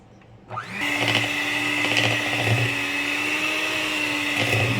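An electric mixer switches on and whirs steadily while beating milk bun dough, a constant high motor whine with faint scraping against the bowl.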